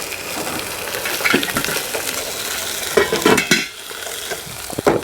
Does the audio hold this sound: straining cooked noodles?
yes